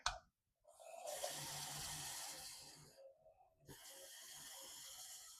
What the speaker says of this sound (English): So let's put some water in this.